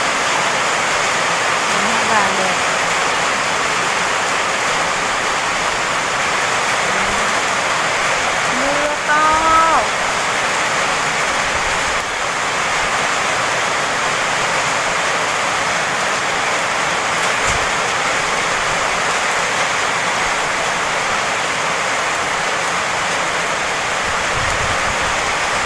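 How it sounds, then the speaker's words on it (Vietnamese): Heavy rain pours down on a farm, a dense, steady hiss that fills the whole scene. Faint voices and a few brief sounds rise now and then beneath the downpour. "Người ơi, mưa rồi."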